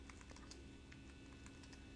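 Computer keyboard typing at a flight-simulator setup, a faint scatter of quick key clicks in uneven bursts over a steady low background hum, with no voices.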